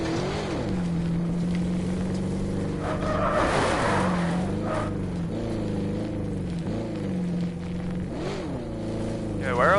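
A car engine in Call of Duty Black Ops 4 Blackout drones and revs with rising and falling pitch, steady and prominent, with game effects around it.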